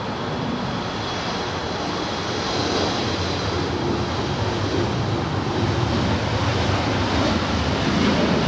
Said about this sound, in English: This is SkyWest 3446 departing to San Francisco. It's an Embraer E175.